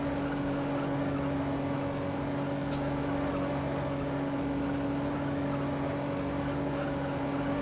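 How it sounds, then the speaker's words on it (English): Fully upgraded Toyota Supra accelerating hard in the racing video game Juiced, a steady loud engine drone with strong sustained tones throughout, while someone talks over it. "we reached the target speed of 140 with 8 seconds, and this is with a fully upgraded Supra as well"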